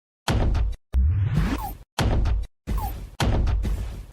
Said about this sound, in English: we get Mission Complete sound and a big firework of particles